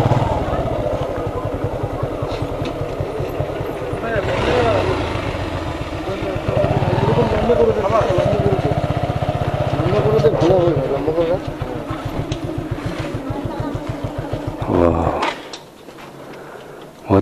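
A motorcycle engine runs at a low, steady idle rumble while the bike is parked on a ride to Kalimpong, with someone talking over it before the engine cuts off near the end.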